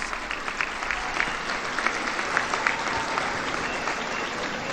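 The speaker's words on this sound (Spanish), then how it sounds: "queremos darle un aplauso a ellos y a todos los migrantes, a todos los paisanos y paisanas" An audience applauds for migrants at a presidential address in Tepeapulco, Hidalgo, a sustained, even roar of many hands clapping from a moderate distance, with no voices rising above it.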